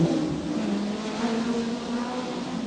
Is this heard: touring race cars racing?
yes